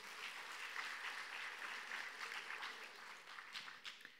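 Warm applause fills a hall at an awards ceremony of the Pomeranian Forum of Rural Housewives' Circles. Steady, dense clapping from a sizable audience runs throughout, moderately loud and without speech.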